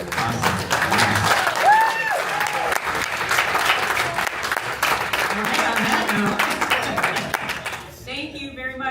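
A crowd applauds steadily for several seconds at a startup pitch event, dense clapping filling the room, with a voice briefly cutting in near the end.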